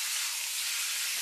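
Beef pieces browning in hot oil give off a steady, even sizzling hiss that holds at one level throughout, close and fairly loud, with no separate stirring knocks standing out.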